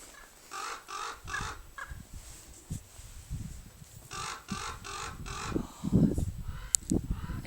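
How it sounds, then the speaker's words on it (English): Crows caw in repeated harsh bursts near a garden, with several birds calling outdoors, some calls nearer and louder, amid rustling background noise and no talking. "the birds are just been crazy and weird lately"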